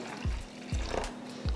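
Water poured into a bowl of freshly ground chutney to thin it, with a few short splashing pours in quick succession, close and fairly quiet.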